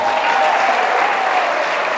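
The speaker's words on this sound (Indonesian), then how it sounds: "tepuk tangan untuk kamu semua." Dense, steady audience applause from a large gathering of youth and students, loud and continuous with no voices over it.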